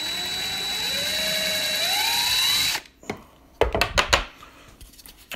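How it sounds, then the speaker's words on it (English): A power drill whines steadily while boring holes in the handle of a lightweight Spyderco Manix2 folding knife, then stops, followed by a few close handling knocks and clicks. "let me drill these other holes here real quick"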